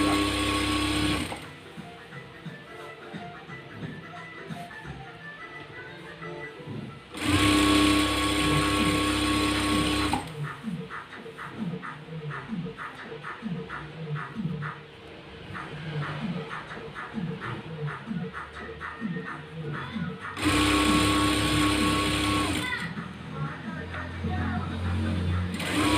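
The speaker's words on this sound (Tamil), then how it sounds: "அங்கங்கே ஸ்டாப் பண்ணிவிட்டு ஃபோல்ட் பண்ணிவிட்டு ஸ்டிச் பண்ணிக்கலாம்." A sewing machine stitches a saree edge in loud sustained runs, its motor whirring steadily with a fast mechanical chatter, broken by short stops and restarts.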